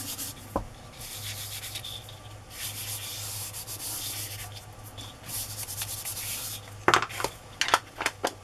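Ink is rubbed over a vintage photo for a 1950s-style craft tag, giving a continuous soft scrubbing rasp in repeated strokes, with a few sharper taps near the end.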